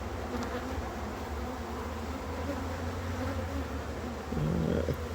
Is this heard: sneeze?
no